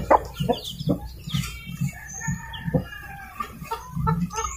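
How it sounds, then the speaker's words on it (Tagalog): Young pure Rhode Island chicks cheep and peep close by in a quick, busy series of short calls, with some clucking from adult fowl mixed in. "Ayan yung mga pure natin na Rhode Island, mga sisiw."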